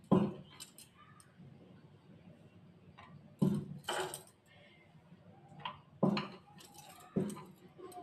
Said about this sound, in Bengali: এবার এটাকে বেলে নিচ্ছে একটুখানি তেল লাগিয়ে